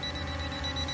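LF662 drone's obstacle sensor beeping indoors, a steady high-pitched electronic tone sounding continuously at close range with a low motor hum underneath.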